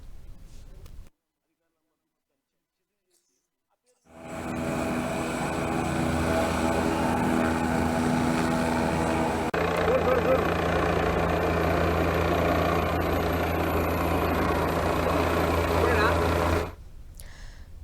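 A tourism helicopter for aerial-view rides at the Medaram Jatara, flying from Elubaka in Tadvai mandal: after a brief silence, a loud, steady engine drone holds for about twelve seconds, then cuts off abruptly.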